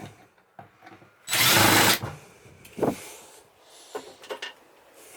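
A power drill backs screws out of an RV roof vent cover: one loud whirring burst of about a second, then a shorter buzz and light clicks and handling noises.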